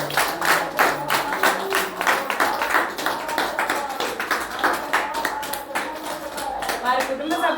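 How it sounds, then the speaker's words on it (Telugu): Group clapping at an ashram meal for elderly residents, given for a birthday: a run of uneven, fairly close handclaps lasting several seconds, with voices talking over and between them. "అందరూ ఒకసారి క్లాప్స్ కొట్టండి."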